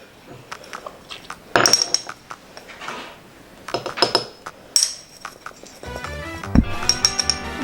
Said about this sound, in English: And then we grind it all up using our mortar and pestle.